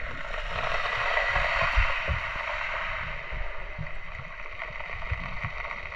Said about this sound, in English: you'll hear the rumbling of the surf as it rumbles and wobbles through the pebbles on the beach